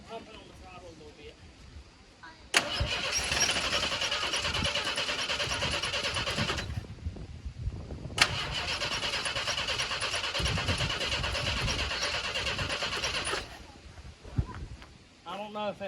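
Engine of a Ford Bullnose truck cranking over with the throttle pumped, two long bursts of steady loud starter whir separated by a short pause, with low chugging underneath and no catch into running.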